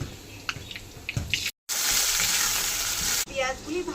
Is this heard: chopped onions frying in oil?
yes